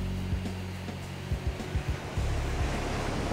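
Ocean surf rolls onto the beach at Mayaro, a constant washing roar overlaid with wind buffeting the microphone and several low thuds. No voices are heard.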